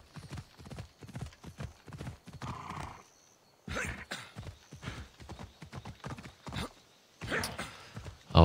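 Horse hooves clip-clop in the Assassin's Creed video game, a brisk rhythmic run of close, clear hoofbeats in bursts separated by brief pauses, with a short whinny and no talk.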